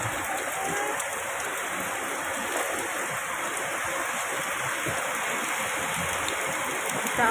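Steady downpour of heavy rain, a close, even wash of water that never lets up.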